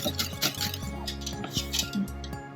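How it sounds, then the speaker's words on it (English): Coconut banana muffin batter mixed in a bowl, with a utensil clinking and scraping against the bowl in a steady, close stirring rhythm. "Add it in little by little and mix until smooth."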